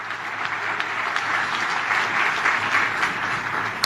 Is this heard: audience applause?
yes